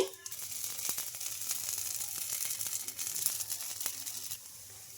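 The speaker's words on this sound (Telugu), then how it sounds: "ఇంకా దోశ పైన ఆయిల్ అయితే వేసుకోవాలండి" A moong dal and oats dosa sizzles steadily in an oiled pan, a close, continuous frying hiss with faint scraping touches and no talking.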